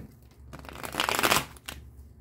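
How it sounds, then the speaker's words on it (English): A short, crisp riffle of tarot cards being shuffled, close and quiet, followed by a brief second flutter. "I was going to say two more shuffles"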